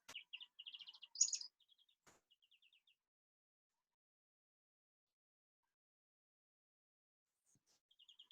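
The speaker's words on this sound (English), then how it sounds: "That's a diagnostic greenfinch sound" A greenfinch gives short chirpy trills and chattering notes, close and fairly soft, in a few quick phrases. A long quiet stretch follows before another faint burst near the end.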